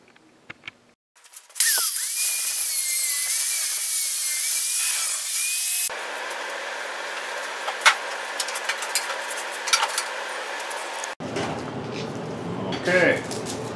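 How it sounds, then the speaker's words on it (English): Angle grinder fitted with a flap wheel deburring sharp steel edges, a loud steady whine running for several seconds, then shifting tone as it works the metal, followed by a quieter patch of clanks and handling noise. "take an angle grinder with a flap wheel and take all the sharp edges off here"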